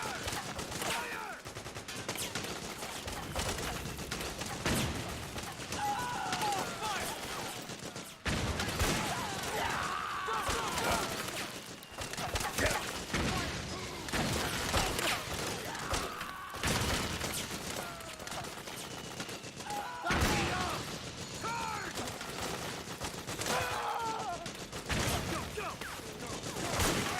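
Dense gunfire in Metal Gear Solid 4: Guns of the Patriots, sustained bursts and scattered shots with crashes and impacts throughout, mixed with shouted game voices.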